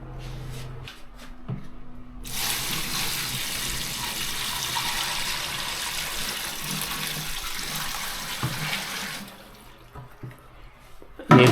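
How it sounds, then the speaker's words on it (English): Water pours steadily into a Sponono portable washing machine holding a dirty bed sheet, a loud continuous splashing rush for several seconds that then cuts off to quiet. "Now I'm going to put water inside."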